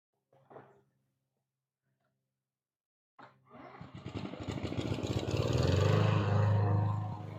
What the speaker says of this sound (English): He's going to finish the mowing now.